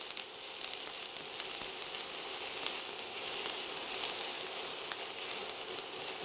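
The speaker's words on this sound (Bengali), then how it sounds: "টু টেবিল স্পুন পেঁয়াজ, এবার এটাকে একটু ব্রাউন করে ভাজতে হবে।" Chopped onions browning in a pan, a continuous dense sizzle with an even, hissing texture throughout and no distinct stirring strokes; no speech.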